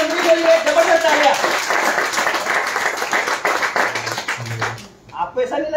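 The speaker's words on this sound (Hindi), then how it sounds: "आपको ऐसा नहीं लगा ये तालियां कुछ ज्यादा हो गई?" A crowd at a Modicare business gathering claps loudly and continuously, with a voice speaking over the applause and a brief lull near the end before it resumes.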